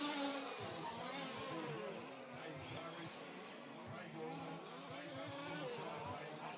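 Small RC race car engines buzz and whine at a live RC Motorsport Europe race, one engine running rough; a faint, steady, distant drone with shifting pitch.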